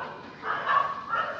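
A dog gives a short, muffled bark and whine close by outdoors, a soft yip rising mid-way and trailing off, fairly faint with no clear speech.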